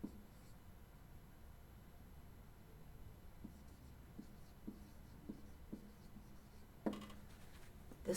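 A pen scratches on paper in quiet, soft strokes with small taps, ending with a slightly sharper scribble.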